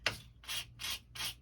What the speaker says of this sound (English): I'm going to gently sand back to take off some of that.